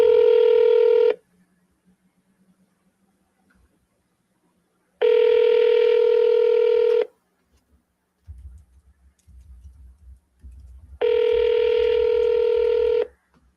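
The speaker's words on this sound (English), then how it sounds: "I'm gonna double dial that guy right quick." Telephone keypad tones sound during a redial: three loud bursts of rapid DTMF dialing, each lasting one to two seconds, separated by silence, with faint low rumbling in one gap.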